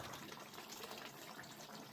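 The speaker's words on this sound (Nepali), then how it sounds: "अलिकति सुक्खा भएर चाहिँ पानी हालिदिनुपर्छ" Water pours steadily into a pan of fried food to turn it into soup in a Nepali home kitchen, a faint continuous gushing and splashing with no talk.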